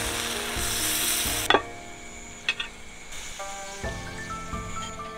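Fish hits hot oil in a wok with a loud hissing sizzle that quickly settles into a quieter, steady frying crackle, broken by a few light clicks of utensils.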